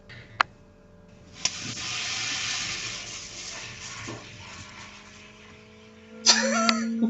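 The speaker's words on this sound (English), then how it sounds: "With the toilet flush." A toilet flushes in a home: a broad, steady rush of water swells in and runs for several seconds, followed by a brief rattle of the tank refilling and a faint tone at the end.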